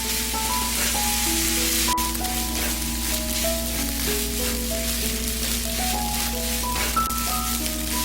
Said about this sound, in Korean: 그리고 3분간 면이 익을 때까지 볶아주세요.